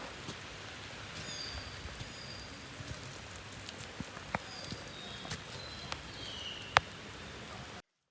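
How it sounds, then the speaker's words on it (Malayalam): Steady rain falls outdoors in the hills of Idukki, a soft continuous hiss of drops on surfaces with occasional sharper taps and ticks scattered throughout, fairly quiet and with no voices. "മഴയും പെയ്യുന്നുണ്ട്"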